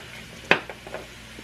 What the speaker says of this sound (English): go ahead and add your onions and your mushrooms right in there